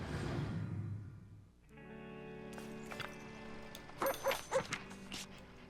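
A dog barks several times in quick succession near the end, short sharp yips over quiet game ambience and soft chimes in the video game Zenless Zone Zero.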